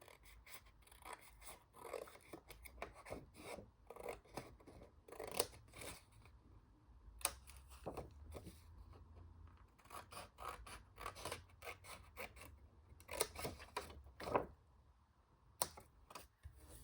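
Scissors snip repeatedly through long pieces of 12x12 craft paper, close and crisp, in an irregular run of cuts with small rustles of paper between them and no talking.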